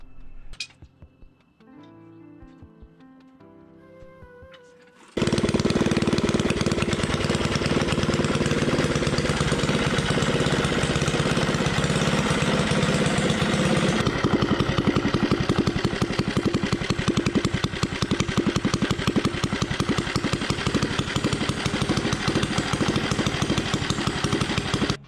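A 98cc engine with a billet flywheel and an aggressive cam starts after a few clanks and then runs continuously close by. Its loud, rough, rapid firing stays steady for about twenty seconds.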